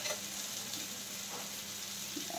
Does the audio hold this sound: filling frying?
yes